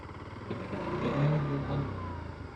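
TVS Apache RTX motorcycle engine running through a U-turn, a steady mid-pitched drone that swells slightly as the bike pulls around, close and continuous with no talk.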